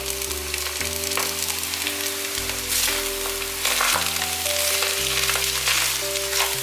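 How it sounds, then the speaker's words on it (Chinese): Coral grass and kelp stir-frying in a pan over medium-low heat give a steady, close sizzle and crackle throughout, with a sustained music bed underneath. "慢慢的用中小火炒，大约炒了4分钟左右，把珊瑚草放进来，还有海带"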